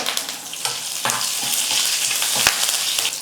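Close, continuous sizzling and crackling of spices, curry leaves, dal and chilies frying in hot oil, with occasional clinks of a spoon stirring the pan.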